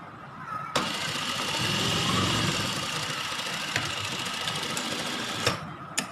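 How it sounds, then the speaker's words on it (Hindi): An electric sewing machine runs steadily and up close, sewing thick gathering stitches through leftover fabric pieces for a baby frock, with a few sharp clicks as it starts and stops. "अब मैं इसको दरमियान में जोड़ लगा के इसके और इसको मोटे टांके के सिलाई लगा के इसके चुनर डाल लूँगी।"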